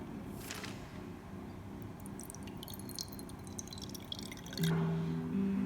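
Water is poured and weighed out, 300 ml for a gluten-free loaf, giving soft drips and wet splashes over a low hum, then a steady electronic tone near the end.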